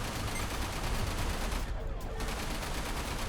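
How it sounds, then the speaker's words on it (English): A missile turret in the space game Everspace fires continuously, a dense, loud barrage of blasts and rumbling that fills the soundscape with barely a break. "The missile turret's shooting at me."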